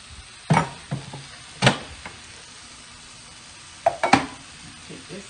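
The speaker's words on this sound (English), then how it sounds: "just go ahead and combine it in with your Beyond Meat and your veg here and your garlic." Beyond Meat, vegetables and garlic stirred together in a pan for a vegan baked ziti, with a few scraping clatters of a utensil against the pan and soft sizzling between them, heard alone.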